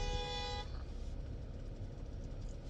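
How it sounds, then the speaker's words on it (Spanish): A car horn blares in a sustained, loud, harmonic blast for about half a second, then cuts off, leaving steady road and engine rumble with no talk. "porque este está tocando bocina"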